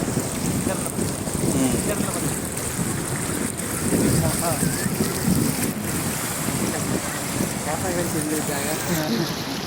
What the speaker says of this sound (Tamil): தண்ணி போயிட்டுருக்கு பாருங்கள்.